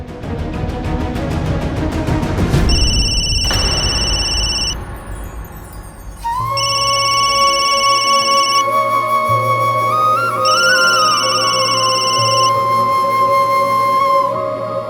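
A phone's electronic ringtone plays a steady looping melody with sustained tones, loud and close.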